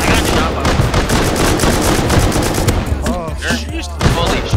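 Dense gunfire in the survival game Rust, loud and sustained rattling shots, with a voice briefly talking near the end amid the firing.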